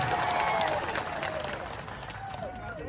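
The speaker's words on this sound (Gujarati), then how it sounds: "એવા ચૈતરભાઈ વસાવા માટે આપણે એમને જોરદાર તાળીઓના ગણગણાટથી એમનું સ્વાગત કરી રહ્યું" A crowd at a political rally in Kavant taluka, Chhota Udepur, applauding a welcome: sustained dense clapping with whistles and a murmur of voices, loudest at the start and easing off.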